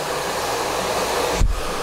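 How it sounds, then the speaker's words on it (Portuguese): A hair dryer on its hot setting blows in a steady, loud, close-up whoosh while used to style wavy hair with a brush, with a brief thump near the end. "Ligo o calor do secador"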